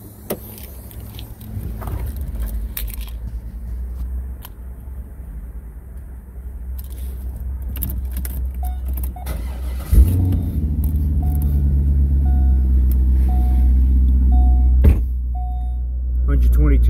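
A black 2004 Chevrolet Corvette automatic convertible cranks and fires up about two-thirds of the way through, then settles into a steady, deep, rumbling idle after a stretch of quiet background shuffling.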